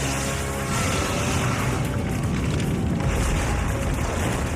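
A sustained, rumbling explosion roars in an animated Godzilla series, dense and loud throughout with a low booming roll.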